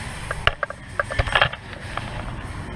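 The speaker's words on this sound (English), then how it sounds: "next we're going to remove the bracket mounting bolts from the back." A 17 mm socket and ratchet loosen the brake caliper bracket mounting bolts during a front brake pad and rotor job, giving a short burst of quick, close metallic ratcheting clicks and small clanks.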